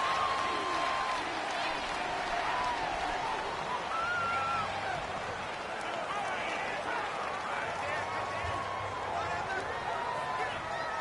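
A home stadium crowd in Madden 19 during an Atlanta Falcons versus Philadelphia Eagles game: a steady, distant roar of many voices with scattered whistles and shouts, sustained throughout at moderate volume while a commentator talks over it.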